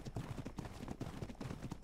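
Horse hooves thud in a steady walking rhythm in ARK Survival Evolved, faint and close, several soft clip-clop beats without speech.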